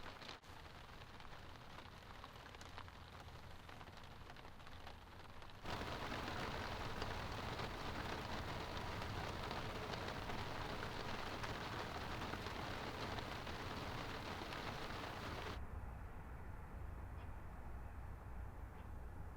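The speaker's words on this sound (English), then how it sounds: "There's few things in life cozier than spending the night in your camper while it's gently raining outside." Steady rain patters on the roof of a truck camper at night, a continuous hiss that swells noticeably heavier partway through and then eases back to a lighter, even drumming, with no voices.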